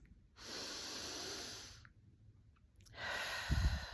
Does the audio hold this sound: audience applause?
no